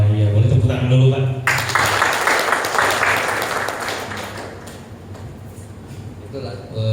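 Clapping breaks out among an audience at a corporate talk, a brisk round of hand claps with a voice speaking before it and again at its end as the clapping thins out.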